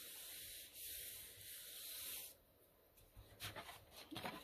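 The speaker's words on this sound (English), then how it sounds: "Take my bone folder and burnish it down." A bone folder is rubbed firmly across paper to burnish the cover of a handmade nature journal, making a continuous close scraping and rubbing sound that turns into shorter strokes toward the end.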